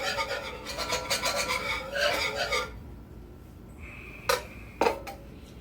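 Whisk scraping rapidly around a pan of roast beef jus gravy, a scratchy rhythmic rasp for nearly three seconds, then quiet with a couple of sharp metallic clinks.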